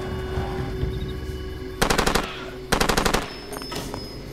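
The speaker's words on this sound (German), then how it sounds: "Ich geh mal hier an das Geschütz." A mounted machine gun fires in Far Cry 2, two loud rapid bursts of evenly spaced shots, each lasting about half a second, over a steady low ambient hum.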